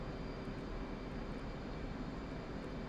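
F/A-18C Hornet jet engine during night air-to-air refuelling over the Caucasus in the DCS flight simulator, a steady, even cockpit roar and hum with no breaks, heard alone at moderate level.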